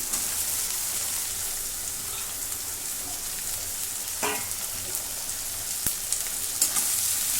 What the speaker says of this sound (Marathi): आता ही भेंडी टाकून देते